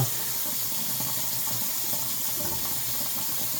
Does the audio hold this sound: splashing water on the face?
yes